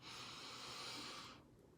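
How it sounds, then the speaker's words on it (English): One long, steady breath is drawn in through the nose for over a second, close and soft, then cuts off as it is held. "I want you to breathe in as much oxygen as you can to that area"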